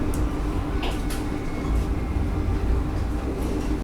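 Inside a Vande Bharat Express train from Gaya to Kolkata as it starts moving again after a halt, a steady low rumble and rolling rail noise run continuously, with a sharp click at the very end.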